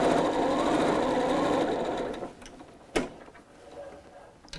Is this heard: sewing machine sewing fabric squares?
yes